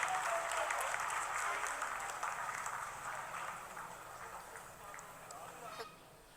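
Applause fills mission control during the Chandrayaan 3 lunar landing, a fairly faint, dense clatter of many hands with a few sharp cheers or whistles, tapering off toward the end.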